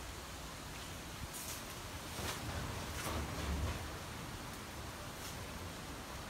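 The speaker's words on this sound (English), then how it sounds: "Still a wee bit windy." Steady wind blows as a broad, hissing rush outdoors after Hurricane Irma, with a few stronger gusts swelling midway.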